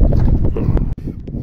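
South wind blows across the microphone beside the Tiligul estuary during a fishing trip, a loud, close, gusting low rumble with one brief dropout.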